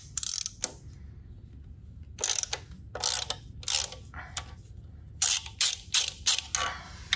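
Ratchet wrench loosening an exhaust bolt on a 1995 Yamaha DT 200R motorcycle, quick bursts of clicking pawl ratchet strokes, close and loud, separated by short pauses, with no talk over it.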